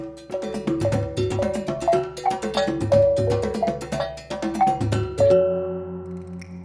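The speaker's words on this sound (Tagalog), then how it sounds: "Ang musika ng kulintang ay narinig sa buong torogan." Rapid, ringing metallic kulintang gong tones play a lively repeating melody over low drum thumps inside a torogan, a bright percussive ensemble ending in a fading resonance.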